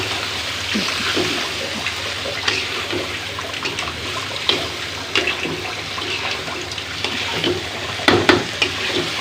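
Hot tempering spices poured into a simmering shrimp, bean and potato curry set off a loud, rushing sizzle that hisses steadily, with occasional sharper spits and stirring knocks close by.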